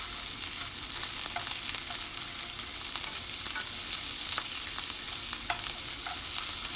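Batter for Vietnamese crispy pancakes (banh xeo) fries in a hot pan, a constant loud sizzle and crackle with scattered small pops throughout.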